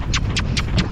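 Four evenly spaced hoofbeat thuds in quick rhythm, like a horse running, over a steady low rumble.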